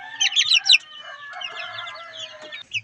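Chickens cluck and chatter in quick bursts, several birds close by at a coop, with higher squawks early on and softer clucking trailing off.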